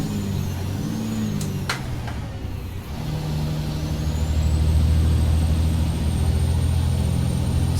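A truck in American Truck Simulator gives a couple of sharp hissing air-brake releases, then its diesel engine rumbles low and builds steadily in loudness, close and alone.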